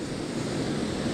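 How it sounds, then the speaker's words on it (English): Fast creek water pours over a spillway in a steady, dense rush, loud and close with no breaks. "We got very fast water. It's pretty much a spillway."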